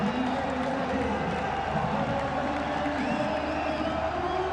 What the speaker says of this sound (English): And the crowd absolutely loving it.